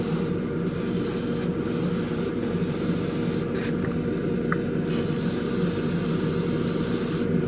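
A light first coat of paint sprayed from close range onto an AMT 1967 Impala Street Machine model car kit, heard as a continuous, even aerosol hiss from start to finish with no talking.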